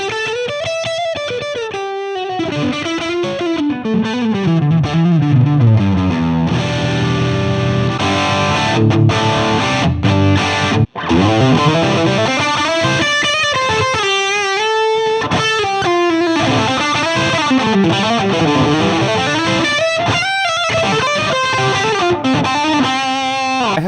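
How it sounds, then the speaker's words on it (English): Electric guitar runs through the Pod Go's British 2203 amp model, based on a Marshall JCM 800, giving a loud, distorted tone with fast melodic runs and bends that play continuously without voices. "The British 2203, based on the Marshall JCM 800."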